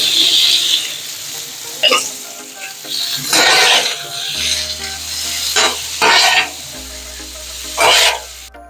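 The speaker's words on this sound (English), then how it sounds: "we got the bacon and the onions sauteing together" Bacon and onions sauté together on a Blackstone flat-top griddle, a steady close sizzle with bursts of scraping and stirring recurring every second or two, no talking over it.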